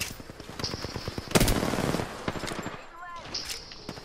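Rapid automatic gunfire from an Apex Legends match near a church drop zone, a burst of fast repeated shots with a loud cluster near the middle, while a voice talks over the action.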